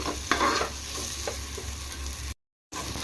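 Masala for curry sizzling and being stirred in a pan, a steady close frying hiss with soft scraping strokes, cut by a brief gap of silence near the end.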